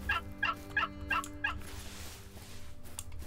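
A wild turkey in the hunting game Hunter: Call of the Wild lets out a rapid series of five or six rattling gobbles, close and clear, then fades into a low ambient hum.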